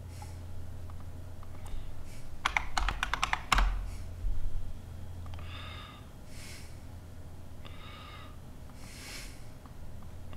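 Credentials go in on a computer keyboard: a quick burst of close, crisp key clicks, then a few scattered taps over a faint hum, with a breathy sound among them.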